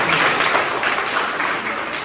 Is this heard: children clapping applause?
yes